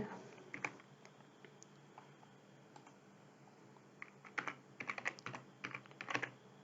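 Typing on a computer keyboard while entering a line of Python code, steady close key clicks with bursts of faster strokes near the end, alone without talk.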